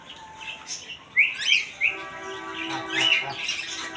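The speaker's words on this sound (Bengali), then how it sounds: "আর এদিকে আছে বাজরিকা পাখির সেট আপ এবং খাঁচা" Budgerigars and cockatiels at a bird and pigeon market in Kashinathpur, Pabna, giving sharp chirps, squawks and warbling calls in irregular bursts over a quiet background hum, close by, with no speech.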